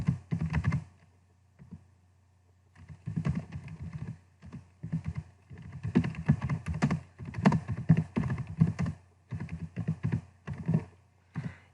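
Keys clatter on a computer keyboard during a typing test, coming in uneven bursts of quick taps with short pauses in between, close and clear with no talking.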